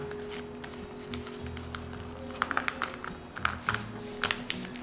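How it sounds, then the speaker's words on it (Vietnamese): Crisp irregular crackling from stiff Vietnamese rice paper being folded and rolled around a sticky green-rice filling for spring rolls, close and light, in scattered bursts over a faint steady hum. "cái bánh đa nem này cứng quá, nghe nó vẫn rồm rộp luôn"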